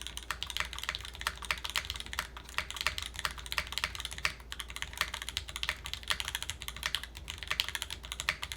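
Steady, quick keystrokes on a Dolch TKL top-mount keyboard resting on a leather desk pad, a close, continuous clatter of varied key presses with no voices.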